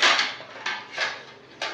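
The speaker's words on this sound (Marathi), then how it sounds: "बघा कशी लाईनमध्ये लावते ती ताटं।" A little girl sets metal dinner plates down in a line on the floor, with four separate clattering metallic knocks spaced unevenly, close by and moderately loud.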